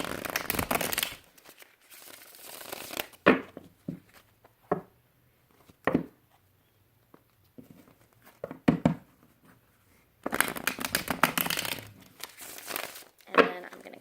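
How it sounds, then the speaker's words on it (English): Tarot cards being shuffled in two quick rounds, with crisp riffling and crinkling bursts separated by quieter taps and handling noises, recorded close up and heard alone. "Alright, so we're going to do 2 quick shuffles."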